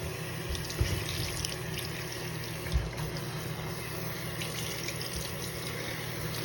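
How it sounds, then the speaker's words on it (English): Water runs steadily from a washroom sink tap to rinse conditioner out of a cosmetology doll's hair: a continuous close rush with small splashy bumps and no voices. "we're going to rinse out the doll's hair with some"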